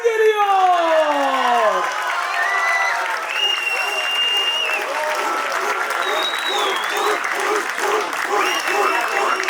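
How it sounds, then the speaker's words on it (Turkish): A festival audience claps loudly and continuously at a youth festival in Mersin as a winner is announced, with cheers and whoops rising over the steady applause and a voice carrying through at the start. "Ve birincimiz büyük alkışlarla Ozan Mercan!"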